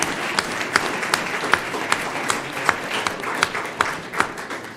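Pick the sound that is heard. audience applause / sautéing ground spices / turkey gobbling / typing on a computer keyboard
audience applause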